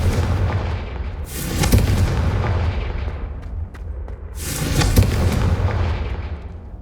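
Two loud, booming Confringo spell explosions in the video game Hogwarts Legacy, each a sharp blast followed by a long rumbling decay, with steady low background noise between them.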